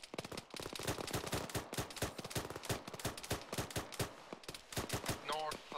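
Rapid gunfire from an ArmA 3 battle, dense cracking shots in fast bursts and single reports, loud and close, with a brief voice near the end.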